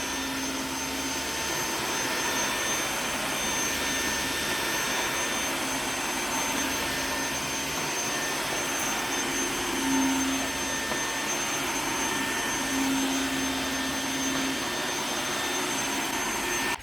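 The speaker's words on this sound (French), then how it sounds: "ça lave, donc ça nettoie bien, ça mouille et ça aspire bien juste après" A Tineco iFloor3 wet vacuum cleaner washes a floor, wetting and suctioning as it goes, with a loud, steady motor whine and rushing airflow that runs unbroken throughout, close by.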